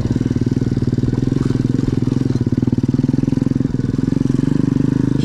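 A motorcycle engine runs close and loud with a steady, even pulsing drone that holds through the whole stretch with little change in pitch.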